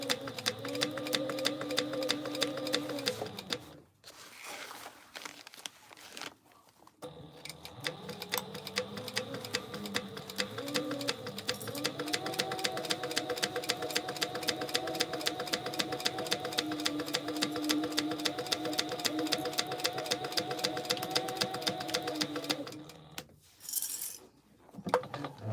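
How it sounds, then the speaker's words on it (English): A domestic sewing machine runs a back stitch on a tote bag, a steady rapid needle clatter lasting about twenty seconds with brief pauses between short runs, close and fairly loud. "I just want to do a little back stitch there just to hold it while I'm piecing everything together."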